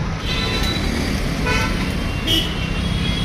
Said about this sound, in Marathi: संडेची ट्रॅफिक बघा गाईस, आहे नाही पण असते.